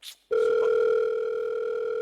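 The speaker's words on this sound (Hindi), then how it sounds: "सर आपका फोन आ रहा है." A phone rings at a trade event, a steady electronic tone starting abruptly after a brief noise and holding loud and continuous to the end.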